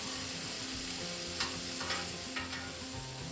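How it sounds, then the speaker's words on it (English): Ribeye steaks and vegetables sizzle in a pan with a constant loud hiss, and a few brief scrapes and taps come as the vegetables are flipped. "We're gonna go ahead and flip all our veggies."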